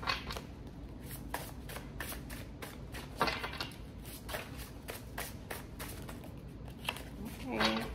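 Tarot cards being shuffled, a steady run of quick riffling, slapping strokes close by and fairly soft, repeating through the clip with a brief pause now and then.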